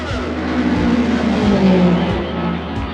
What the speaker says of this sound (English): Having outdistanced all of his competition, Foyt sweeps through the final lap and takes the checkered flag.